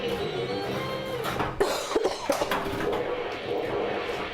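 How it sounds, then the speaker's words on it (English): A few short, harsh COVID coughs burst out around the middle, close by, over a steady background rumble. "Really wish I could stop coughing."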